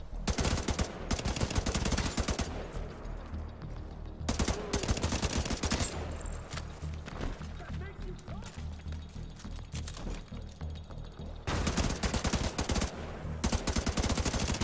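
Weapons fire in The Division 2, dense bursts of rapid automatic gunshots with sharp cracks and thuds, loud and close, pausing briefly between volleys over a game ambience.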